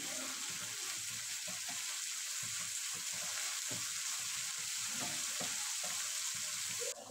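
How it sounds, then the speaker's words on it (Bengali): Spice paste frying in oil for a Bengali bata fish curry with potato and aubergine, a steady continuous sizzle with faint scraping stirs, close and even throughout, no talk. "মশলাটা কষে নেব যতক্ষণ না মশলা থেকে তেল ছেড়ে দিচ্ছে।"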